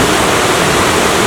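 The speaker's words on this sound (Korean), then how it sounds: "앞에 있는 폭포인데요" Yongchu waterfall, a fall of about five metres in Chilyeon valley on Deogyusan, roars loud and steady as a close, unbroken rush of falling water.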